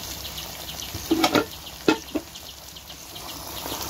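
Goat mutton marinated with salt, turmeric and chili fries in mustard oil with spices, giving a soft, steady sizzle with a few brief clinks and knocks from the pan.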